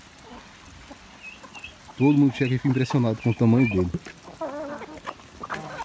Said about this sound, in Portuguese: Olha a coisa linda que é esse meu galo balão